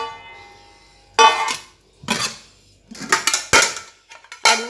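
Rice served onto a plate at home, with a series of sharp clinks and scrapes of a metal spoon against dishes, five or six close, separate bursts with short pauses between.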